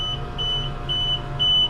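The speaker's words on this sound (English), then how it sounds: "they've got some kind of alarm that I need to kill." A high electronic alarm beeps repeatedly in short, evenly spaced tones over a steady low hum.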